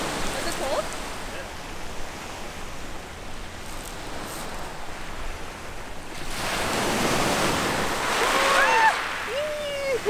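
Ocean waves wash onto a beach in a soft, steady rush that builds louder toward the end. Faint voices and a brief high child's cry are heard over the surf.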